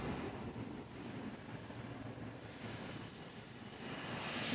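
Strong wind blows around a house in a steady, dense rush with no pauses, moderately loud and unbroken by voices.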